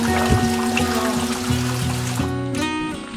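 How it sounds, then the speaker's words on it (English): A waterfall in Langkawi runs only weakly, so the water trickles and splashes steadily. The sound is close and continuous with no voices, and a low tonal hum sits under the water. "The best waterfall I've ever been in."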